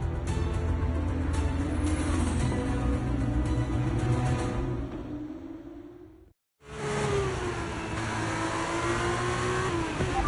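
Formula 1 car in the F1 23 video game pulling out on brand-new tyres, its high-pitched engine howling loudly and steadily as it accelerates, briefly cutting to silence before the engine note resumes.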